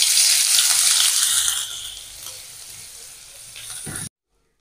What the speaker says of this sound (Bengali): এই যে পেঁয়াজটা এভাবে লাল লাল করে ভেজে নিয়েছি